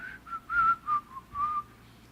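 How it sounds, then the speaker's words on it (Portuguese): Someone whistles a hymn melody in short, clear phrases with brief pauses between them, moderately close and fairly soft against quiet background noise. "olha, assobiando o hino"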